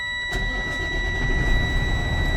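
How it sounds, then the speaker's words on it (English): An automatic-transmission truck engine, in neutral with brakes engaged, cranks and catches with a sharp onset, then settles into a steady, loud rumbling idle close by, with a constant high whine from the cab throughout. "My transmission has to be in neutral with my brakes engaged, and then I can start my truck."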